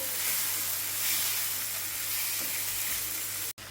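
Green peas being sautéed in a pan for a paratha filling give a steady, even hiss of sizzling, broken by a brief cut just before the end.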